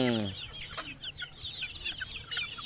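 Month-old chicks clucking and peeping in a cluster, many overlapping soft calls throughout, close by, after a brief low trilling call from a person at the start.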